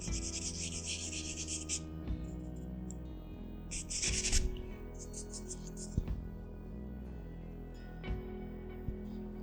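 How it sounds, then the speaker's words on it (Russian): Scratchy, rhythmic strokes of a stiff bristle brush hatching oil paint across canvas, close and fairly quiet, repeating in short bursts with faint tonal hum beneath. "Вот такой вот звук должен быть, но он будет в том случае, если кисть у вас щетинная."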